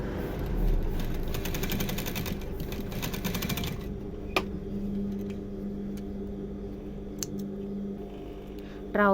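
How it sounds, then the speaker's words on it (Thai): A sewing machine runs in a rapid, steady mechanical stitching burst for about four seconds while joining a seam on jeans trouser legs, followed by quieter handling and a few small clicks. "จะเริ่มเย็บนะคะเริ่มเย็บ ตำแหน่งที่เป็นรอยต่อ"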